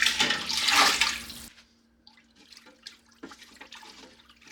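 Leftover chicken stock poured from a jar, a burst of gurgling liquid at first, then quieter trickles and drips with a faint steady hum behind.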